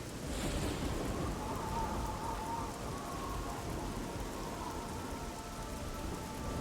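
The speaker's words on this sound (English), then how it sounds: "Well, now it's all stormy and stuff." Thunderstorm in the fantasy role-playing game Nehrim, steady heavy rain hissing throughout with a low distant thunder rumble underneath, no talking.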